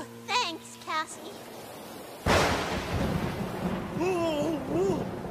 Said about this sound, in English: When the thunder... When the you-know-what gets too loud